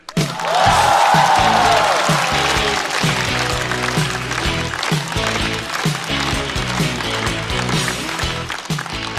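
Audience applause and cheering welcoming a comedian onto a stand-up comedy stage, a loud, dense wash of clapping that swells quickly and holds steady, with a rising whoop near the start.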